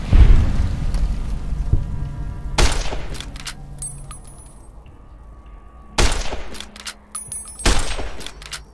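Video game gunfire in Fallout: New Vegas, with several loud, booming shots spaced a few seconds apart, each followed by a ringing decay, and no voices.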